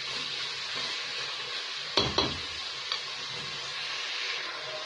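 Onions frying and caramelizing in a pan for green beans with tomatoes, a soft steady sizzle with a couple of brief stirring scrapes and clatters near the middle, fairly quiet and with no talk.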